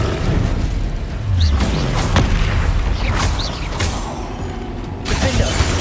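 Fiery Incendio spell bursts in Hogwarts Legacy, a few sharp whooshing blasts and crackling impacts over steady busy game noise, moderately loud throughout.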